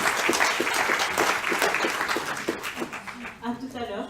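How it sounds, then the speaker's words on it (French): Audience applause at a business seminar, steady clapping from a room of people that fades toward the end as a voice speaks over it. "On peut applaudir Aurore."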